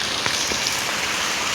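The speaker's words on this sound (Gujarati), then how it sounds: "ફૂલ વરસાદ કમોસમી વરસાદ. પાણી ને પાણી." Heavy unseasonal rain pours in Kharoi village of Bhachau, Kutch, a dense even hiss of falling water throughout a short stretch, with no voices.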